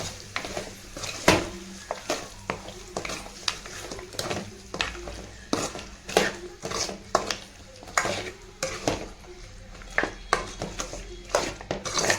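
Repeated scraping and clinking of a spoon stirring mutton with a ground masala in a pan, irregular strokes over a soft sizzle, close and fairly quiet.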